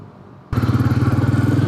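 A Suzuki Hayabusa motorcycle roars past close by, its engine bursting in suddenly and holding a loud, steady pulsing growl to the end.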